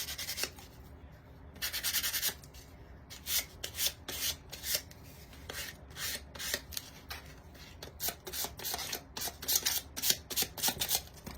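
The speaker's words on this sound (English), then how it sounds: "sanding here" Hand sanding of a Dollar Tree box pumpkin light: rapid, scratchy strokes rub close by in uneven bursts, with brief pauses between passes and no talking.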